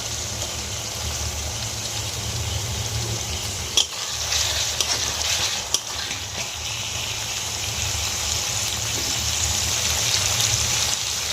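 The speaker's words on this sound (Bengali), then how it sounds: "এবার টমেটো কুচিটা দিয়ে দেবো।" Chopped tomato frying in a pan of onions, cinnamon and cardamom for a chicken do pyaza, giving a steady close sizzle throughout with a couple of brief clinks.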